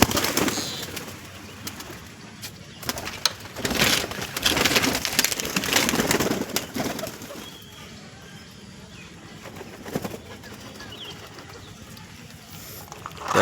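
Pigeons coo and flutter as they are let out of their loft, the bird sounds loud and close in the first half, then fading to quieter cooing against background noise.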